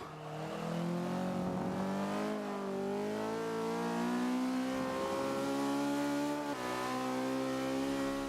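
A Caterham R500 race car engine in Forza 5 revs hard and climbs through the gears, a loud, continuous, close engine note with pitch rising and dropping at each shift.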